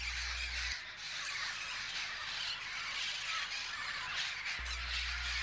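Blue-fronted and yellow-headed Amazon parrots give harsh, raspy squawks that blend into a dense, continuous chorus, with a low steady hum underneath.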